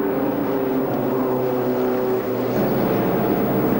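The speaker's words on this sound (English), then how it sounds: "Frank Woolley in the Jowett Jupiter." Jowett Jupiter race car passing at Silverstone during a club race meeting, a steady engine drone with a slight rise in pitch as it goes by at moderate distance.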